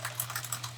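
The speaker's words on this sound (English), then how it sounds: "I'm just cutting this in my die cutting machine real quick." Paper being cut in a die cutting machine for Christmas gift tags: a fast, steady run of light clicking and ticking with a constant low hum underneath, close and moderately loud, with no voices.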